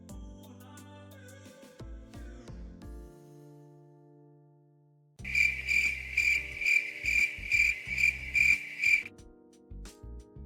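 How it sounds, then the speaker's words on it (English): A cricket chirping sound effect plays alone with several rhythmic, evenly spaced trills over about four seconds, clear and fairly close, after a stretch of low tonal background. "expect to hear a lot more crickets like I just played"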